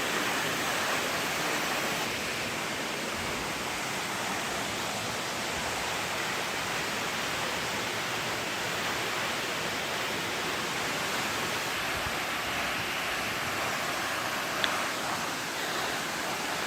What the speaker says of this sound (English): This is the waterfall from the other side of the rock formation through the trees. And this waterfall is gigantic.